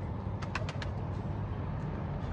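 Pigeons cooing at a rooftop loft on a cool, breezy day, soft repeated coos blended into steady wind and low background rumble, with a few brief bird calls near the start.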